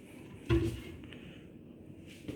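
A hotel room wardrobe drawer slides with a single short wooden knock, followed by faint rustling in a quiet room and a soft tap at the end.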